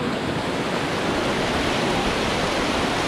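Rushing water at Bunsuran Falls, a dense, unbroken roar of falling water close by that holds at a steady level for the whole stretch, with no voices.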